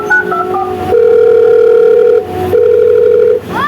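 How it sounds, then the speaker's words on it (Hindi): Telephone call being placed to a son, with a steady electronic ringback tone in long loud bursts separated by a short gap, clear and close with no talk over it. "मैं अभी अपने बेटे को फोन लगाती हूँ"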